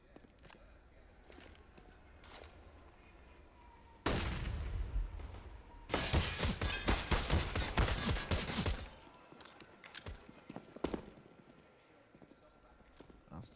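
Pistol gunfire in Counter-Strike on the Train map during a pistol round of a pro tournament match: scattered shots, then a loud, dense volley of rapid bursts midway, with commentary talk running underneath.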